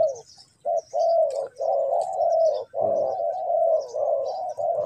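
Spotted dove cooing in the morning, a series of close, clear hooting coos in steady phrases with brief gaps, faint chirps from other birds in the background.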